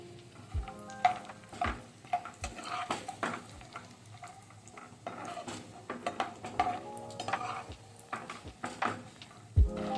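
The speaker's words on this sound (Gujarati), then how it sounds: "આપણે આ ઘીમાં કાજુ તળી લઈશું" Cashews frying in ghee in a pan, with a soft steady sizzle beneath repeated clinks and scrapes of a spoon stirring against the metal pan.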